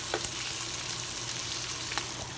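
Bacon fries in a pan with a steady, dense sizzle and crackle heard up close, with a few sharper pops and no talking.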